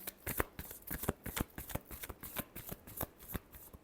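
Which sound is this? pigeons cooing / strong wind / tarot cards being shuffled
tarot cards being shuffled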